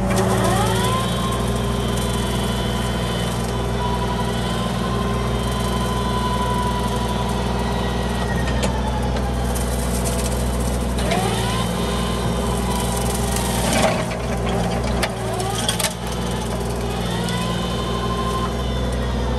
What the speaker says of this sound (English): I'm over here bush hogging the ditch with my mower